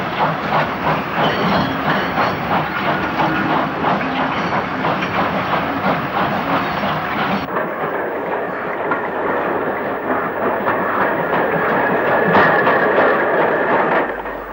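A GWR 5600 class 0-6-2 steam tank locomotive train rolls past steadily with rhythmic rail clatter and a hissing wash, continuous and fairly close, with no talking.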